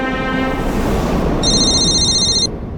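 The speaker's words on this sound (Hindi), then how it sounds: "स्नेहा, वो अनिरुद्ध का फोन आया" A telephone rings with a steady electronic tone, joined partway through by a second, higher-pitched ring, both loud and close with no talking.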